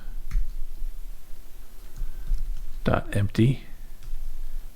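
Computer keys are typed in a short close burst of clicks, a quick cluster of taps amid quiet room tone.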